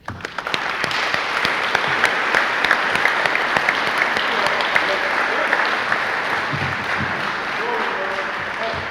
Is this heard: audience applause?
yes